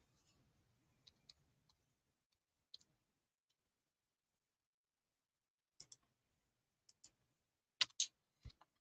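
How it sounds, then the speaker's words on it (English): Keys tapped on a computer keyboard in short, quiet bursts of clicks, sparse and separated by pauses, with a few sharper taps near the end. "Hang on, I'm typing in here."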